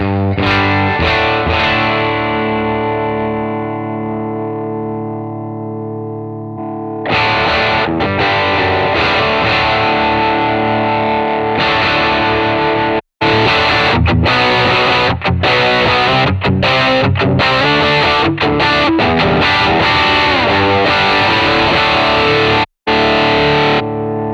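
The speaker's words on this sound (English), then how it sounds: "Let's listen to a Guv'nor capture." Electric guitar played through a capture of a Marshall Guv'nor drive pedal on the Guv'nor 2 setting with deluxe reverb, first sustained ringing chords, then busy distorted riffing with sharp stops and brief silent breaks.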